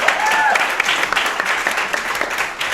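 A live podcast audience breaks into applause at an anniversary show, a dense wash of clapping from a crowd that holds steady for the whole stretch, loud and close.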